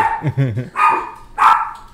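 Small dogs bark close and loud indoors, with a quick yippy run of barks followed by two longer, higher barks.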